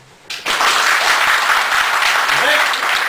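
Audience members at the back of a sermon hall burst into clapping after a brief quiet moment, then keep up dense, loud applause throughout.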